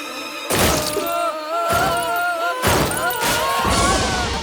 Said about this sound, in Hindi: मेरा गैजेट टूट गया।